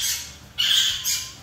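Birds at a tree by a farmhouse let out harsh, close squawks, two loud bursts one after another with a raspy, strident tone.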